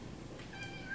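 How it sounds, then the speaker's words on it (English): A pet cat named Sherman gives a short, faint meow indoors, a soft rising cry over quiet room noise. "that's my kitty cat, Sherman."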